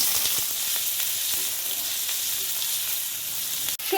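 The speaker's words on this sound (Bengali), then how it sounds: "সবজিগুলোকে খুব হালকা করে ফ্রাই করে নেব" Whole spices, bay leaf and boiled vegetables frying in oil and ghee, a steady crackling sizzle close by with a few soft stirring clicks and a sharp knock near the end.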